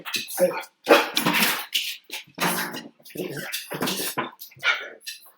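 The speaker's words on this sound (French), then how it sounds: "elle le mord quand il jappe, la petite" Small dogs, one of them a little six-kilo female, yapping and scuffling in play indoors, with sharp barks and whimpers coming in quick bursts over several seconds, close and fairly loud.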